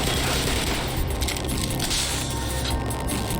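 A full magazine emptied in the Black Mesa video game, a continuous rattle of rapid automatic shots with metallic clinks mixed in, steady and close throughout.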